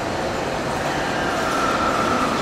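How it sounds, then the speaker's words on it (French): A metro train in Rennes rumbles steadily through a tunnel, close and loud, with rail noise and a faint rising squeal partway through; no one speaks. "On va aller dans le métro."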